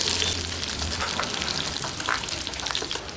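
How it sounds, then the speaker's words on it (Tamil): Garlic, shallots and curry leaves sauté in hot oil while making sukku milagu kuzhambu, a close, steady sizzle and crackle with small pops and occasional scraping stirs, no voices over it. "இப்போ இது 2 எண்ணெயில் போட்டு நல்லா வதக்கிக்கிறேன்."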